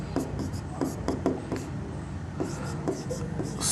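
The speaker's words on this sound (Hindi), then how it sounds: "तो मैं लिख भी देता हूं यहाँ उत्तर में" A teacher writing an answer by hand on a board during a class 8 geometry lesson, soft scratchy strokes in short bursts over a steady background hiss, fairly faint.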